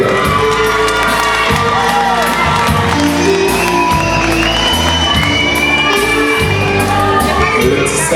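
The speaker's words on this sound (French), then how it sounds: "Marianne Elita, qu'on raccompagne avec des applaudissements s'il vous plaît." Carnival audience at a queen and mini-queen election in southern Martinique roars with sustained cheering, shouts, whoops and children yelling, a dense continuous crowd din with scattered applause mixed in throughout.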